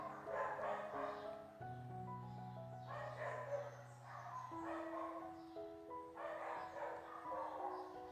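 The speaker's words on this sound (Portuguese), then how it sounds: "Os cachorros do meu vizinho também gostam." Dogs bark and yip in short bursts over music playing in the background, moderately loud and somewhat distant.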